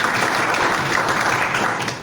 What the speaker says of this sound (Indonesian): Oke, tepuk tangan buat saudara.